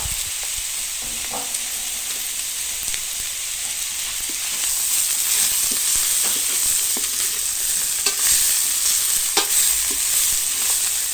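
Hornets stir-fried in a hot pan for a spicy basil and bamboo shoot dish, giving a steady close sizzle with scattered scraping stirs of the spatula that grows a little louder partway through, with no voices.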